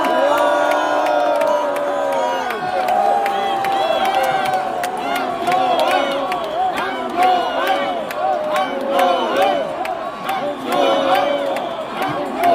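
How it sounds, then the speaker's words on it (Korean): A crowd in a gymnasium in Goyang cheers a party leader candidate at a joint campaign speech, with loud, sustained shouting, whoops and chanting filling the hall. "황교안 당대표 후보에게 다시 한번 큰 박수 보내주시기 바랍니다"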